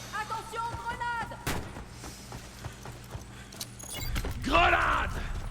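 A grenade goes off in the first-person shooter Warface: a heavy, loud low boom near the end follows a stretch of gunfire-like cracks and game noise, with shouted voices over it.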